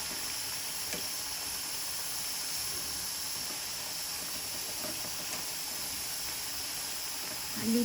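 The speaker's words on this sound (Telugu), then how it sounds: "అటుపక్క రైస్ ఉడకటంతో సౌండ్ అయితే వస్తుంది" Rice boiling in a pot on a home stove gives a steady, fairly faint hiss and simmer that continues evenly throughout.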